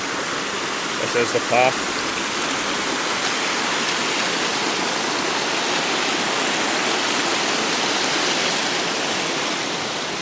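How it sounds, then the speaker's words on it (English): Steady roaring rush of waterfalls newly swollen by heavy overnight rain in Glencoe's Lost Valley, a broad constant wash with rain, loud and close, with a brief spoken phrase near the start. "Look at these waterfalls. So cool, they've just formed overnight, just so much rain."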